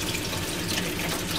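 Tap water runs steadily into a sink as fish innards are rinsed, an even close splashing rush with no speech.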